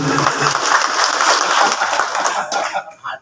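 Audience clapping at a religious gathering and sermon celebrating a wedding, a dense burst of applause that carries steadily and then cuts off near the end.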